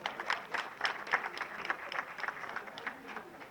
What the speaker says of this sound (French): Mor Diop, vos applaudissements s'il vous plaît.